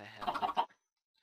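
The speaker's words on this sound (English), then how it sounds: "Killing these damn chickens." A Minecraft chicken gives a short burst of quick, close clucks that stops abruptly into silence.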